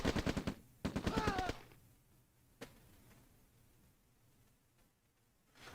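Rifle infantry in the OpenRA Red Alert strategy game fire two quick bursts of rapid gunshots, crisp and fairly quiet, followed by a single later shot over low background game ambience.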